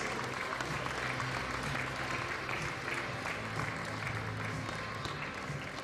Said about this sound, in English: Cheer them, please.